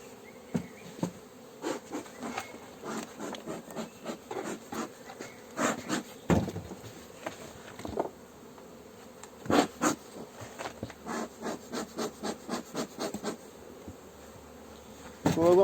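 Honey bees buzz around an apiary hive during a spring inspection, with close passes of individual bees droning in and out over a faint background hum, plus occasional knocks from handling the hive.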